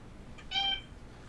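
A person imitates a cat with a single short meow over voice chat, fairly faint and alone.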